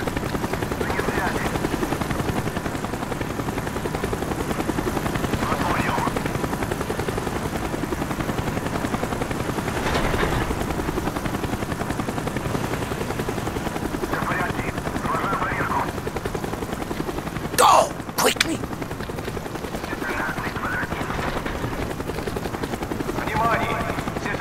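Helicopter in the video game Call of Duty Black Ops, a continuous throbbing rotor drone that stays loud and steady, with a brief sharp metallic clatter near the end.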